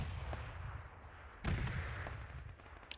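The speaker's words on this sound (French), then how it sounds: "ça lance des grenades vers là où on était" Enemy grenades burst at a distance in a battle royale shooter, one muffled boom standing out over a constant low rumble, with faint clicks around it.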